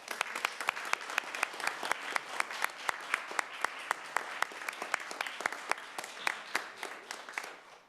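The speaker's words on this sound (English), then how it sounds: "Let's give these kids a round of applause." Parents and attendees at a city council meeting applaud a group of children, a steady patter of many hands with sharp individual claps standing out, moderately distant and without talk.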